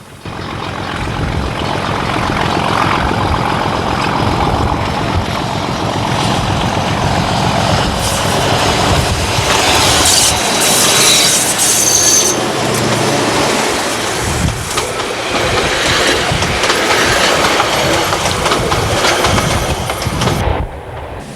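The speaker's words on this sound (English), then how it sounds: "our 750 horsepower English electric 4-cycle diesel smokes it up" An English Electric 750 hp four-cycle diesel locomotive pulls a short train past at close range, its loud, steady engine roar and rolling wagons holding for about twenty seconds with no talk.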